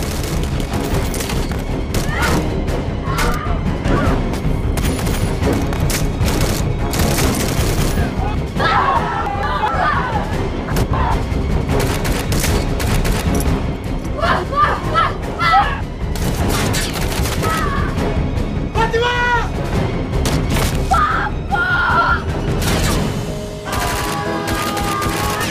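Heavy gunfire from a staged shootout in a TV drama teaser, with dense overlapping bursts and volleys that run loud and continuous throughout, mixed with shouting voices, dramatic music and the general clamor of the action scene.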